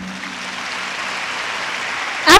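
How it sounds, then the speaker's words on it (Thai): Audience applause at a Thai business seminar, a steady wash of many hands clapping at moderate loudness throughout, ending in a brief louder burst. "ขอเสียงปรบมือให้อัพไลน์ท่านหน่อยค่ะ"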